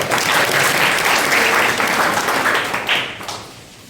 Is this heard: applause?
yes